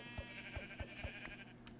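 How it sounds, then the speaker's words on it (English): Sheep in Minecraft bleat in a quick run of short calls, four or five evenly spaced bleats over a steady game backdrop with no talking. "There's two white sheep here"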